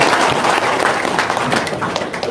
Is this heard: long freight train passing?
no